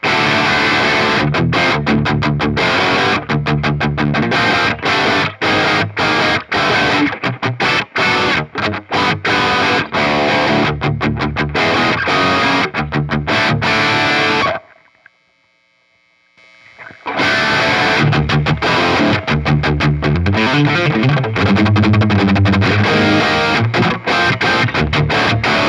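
High-gain electric guitar played through a Bogner Ecstasy Pandora mod amp in TF (top fuel) mode, loud and heavily saturated with a chugging rhythm, a brief drop to near silence midway, then dense distorted playing resumes.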